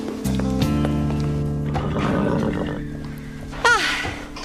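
A horse whinnies loudly and close by, with a long wavering neigh followed by a shorter rising call near the end, heard alone without talk.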